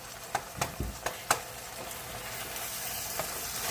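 A pot of chili bubbles toward a boil on the stove, a soft, steady sizzling simmer, with a few sharp clinks of a spoon against the pot early on.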